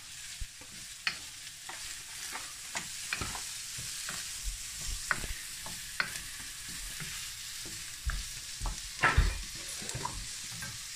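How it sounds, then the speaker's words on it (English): Chopped vegetables softening in a frying pan for a lasagne base, stirred steadily with a utensil that scrapes and clicks against the pan over a soft, continuous sizzle, close and fairly quiet, with no voices. "So, stirring this away. Softening the veg."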